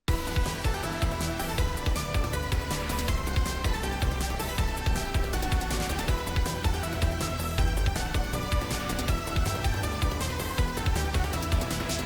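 Energetic J-rock style game music for Nullpoint Protocol, a judge theme with dense driving drums, distorted guitars and bright melodic lines, loud and continuous throughout with no talking.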